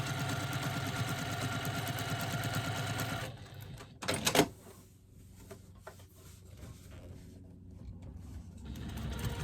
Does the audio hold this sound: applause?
no